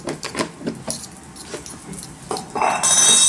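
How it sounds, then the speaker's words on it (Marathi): A spoon clinks and scrapes against a pan while stirring a spiced egg mixture with chilli and black masala, a run of quick metallic taps followed by a louder sizzling hiss near the end. "थोडासा आणि आता हलवायचं"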